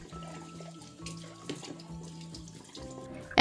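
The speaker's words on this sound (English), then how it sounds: "I rinse it under running water" Water runs from a tap in a soft, steady stream, with faint clinks and splashes of a cutlery stand being rinsed and quiet music in the background.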